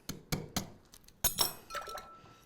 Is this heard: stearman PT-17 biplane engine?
no